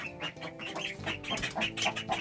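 A duckling and chickens in a coop, with soft clucks and small peeping calls chattering continuously at close range.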